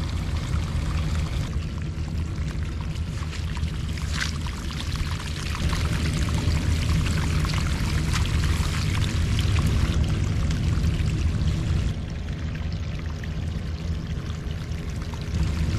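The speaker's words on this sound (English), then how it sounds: "Look how much water we have coming out from the French drain." Steady, heavy gush of groundwater pouring out of a French drain pipe in a soggy yard, a continuous splashing rush that stays loud throughout with no talking.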